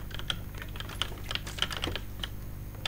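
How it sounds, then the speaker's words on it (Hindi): Computer keyboard typing during a PUBG game: rapid, irregular clicky keystrokes close to the microphone, steady and fairly loud, with no one talking over them. "मेरा कीबोर्ड का बहुत साउंड आ रहा"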